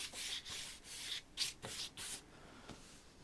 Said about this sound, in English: It's not rubbing off so bad, that black lead I've been using, really.